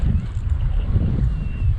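Strong winter storm wind roaring over open ice while ice fishing, a heavy, steady, low rumble buffeting the microphone throughout.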